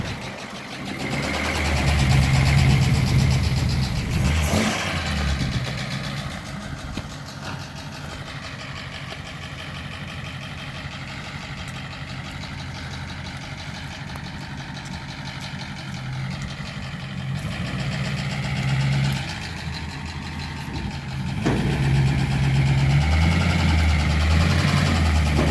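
A Motor Trend Victress S1A car engine runs with a steady low rumble that swells louder at the start and end, close by and heard alone.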